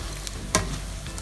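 Chicken skin chicharon frying in its own rendered fat, a steady crackling sizzle throughout with one brief sharper pop in the middle.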